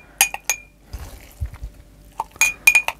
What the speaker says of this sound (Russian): Наполняем баночки